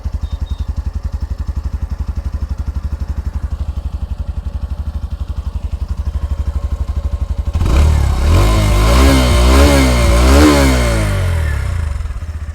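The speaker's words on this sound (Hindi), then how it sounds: "ये रेस देने के बाद में ग्लैमर एक्स का साउंड है" A Hero Glamour X motorcycle idles with a rapid steady putter, then the engine is revved hard, rising and falling in pitch several times before settling.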